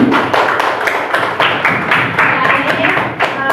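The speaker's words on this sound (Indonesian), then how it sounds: "Tepuk tangan dulu untuk Kak Marwah." A school class claps hands for a student named Marwah, dense, lively clapping close by with a voice talking over it.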